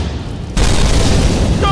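A sudden booming explosion in a video game hits about half a second in and rolls on as a loud, sustained roar to the end.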